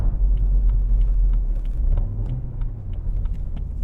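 A BMW M140i engine rumbles steadily from inside the car, then its note shifts partway through as it automatically blips to rev match on a downshift, a continuous, fairly loud drone with no talking.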